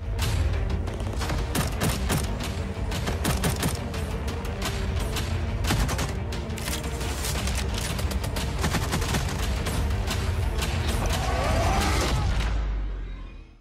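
Call of Duty trailer weapon fire roars almost without pause, dense rapid bursts of automatic gunfire and loud booms layered together, steady and close, ending in a short fade.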